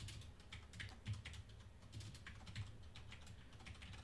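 Quiet, steady typing on a computer keyboard during a Python lists tutorial, soft close keystrokes tapping in a continuous irregular patter with faint low background hum.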